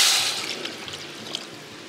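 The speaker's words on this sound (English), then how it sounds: "Now what we're gonna do is now add 2 cups of water" Two cups of water poured into a pot of vegan split pea soup, a brief splashing gush at the start that fades into soft trickling and dribbling, close and alone.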